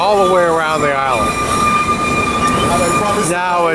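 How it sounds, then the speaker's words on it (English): A narrow gauge tourist train on St Kitts runs along the track with a continuous rumbling clatter, punctuated by rising and falling metallic wheel squeals, close and fairly loud. "The railroad went all the way around the island."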